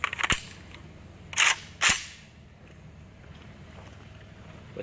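A Zastava M90 rifle fires at an outdoor range: a sharp shot or two near the start, then two more loud cracks about half a second apart, followed by quieter ambience with no talking.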